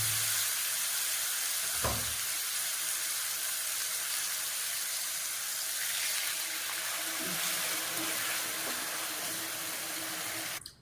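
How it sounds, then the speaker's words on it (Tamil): Steady hissing sizzle with a wash of running water as water is poured into a hot pan of brinjal pachadi, continuous and fairly loud throughout, with a brief clunk near the start. "இப்போ இதில் கொஞ்சமாக தண்ணி ஊற்றிக்கிறேன்"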